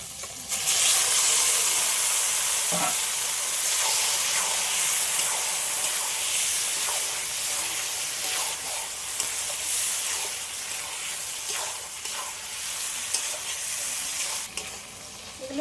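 Marinated goat brain and liver hit a hot pan of well-cooked spice masala for a Bengali dish with Malabar spinach, giving a loud, steady sizzle with intermittent stirring scrapes throughout.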